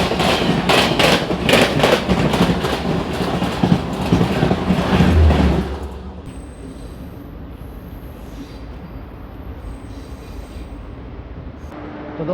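The Delhi Fazilka Intercity Express rolls along the rails with loud rhythmic clickety-clack and wheel rumble that ends abruptly after about six seconds, leaving a quiet hum with faint squeals.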